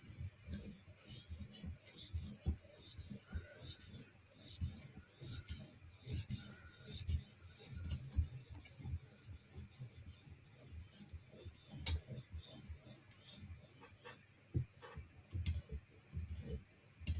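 A blade is drawn across a 2000 grit whetstone in quiet, irregular strokes, soft scraping rubs that come and go in short bursts, fairly faint and close.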